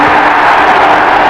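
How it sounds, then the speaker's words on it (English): Crowd noise from a basketball arena during a 1981 NBA playoff game, Celtics at Bulls in Chicago, a loud steady wash of voices filling the background with no distinct cheer peaks. "You can hear the crowd in the background"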